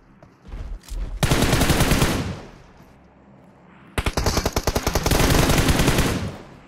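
Two long bursts of DP light machine gun fire in a video game, rapid and loud, with the second burst showing distinct individual shots before settling into a steady roar.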